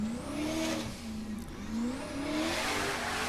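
A formula offroad car called the Wolf, driven in a legal-class competition round in Hafnarfjordur, Iceland, revs hard and rises and falls in pitch as it climbs and accelerates around the course, fairly close and continuous.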